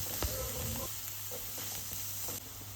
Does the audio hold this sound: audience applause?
no